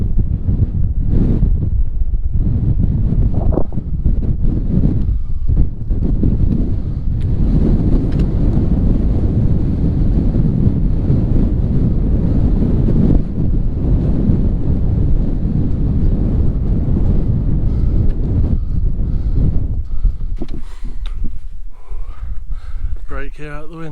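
Strong wind buffets the microphone on a mountain in the Scottish Highlands at An Teallach, a loud continuous roaring rumble that gusts and dips throughout, with talk heard at moments.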